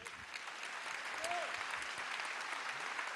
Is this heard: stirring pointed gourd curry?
no